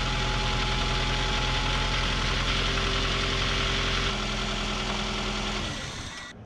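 A rebuilt 2002 Toyota RAV4 engine idles with a loud, steady, close mechanical hum and rattle, then shuts down and fades out in the final second.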